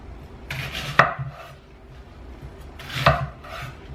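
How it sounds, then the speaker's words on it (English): A knife chopping onions on a cutting board, a couple of sharp cuts with scraping sounds between them, close and moderately loud, with no talking. "And I cut my onions big."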